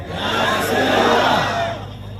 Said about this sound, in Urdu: نعرے کا جواب دیں